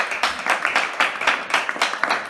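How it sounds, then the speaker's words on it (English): A church congregation claps along in a strong, steady rhythm, loud and close, with irregular accents between the beats and no speech over it. "Clap to Jesus if you love it"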